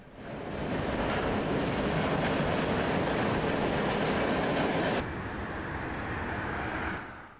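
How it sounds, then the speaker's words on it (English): A freight train rolls steadily past on a busy north-south railroad line through Detroit's downriver communities near Zug Island, a loud continuous rumble and clatter of cars that holds for several seconds, eases slightly, then fades near the end. "Hey, little train action here."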